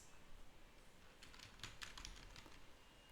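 Computer keyboard keys tap in a quick run of faint clicks as a command is typed, soft and close with a few louder presses in the middle, over quiet room hiss.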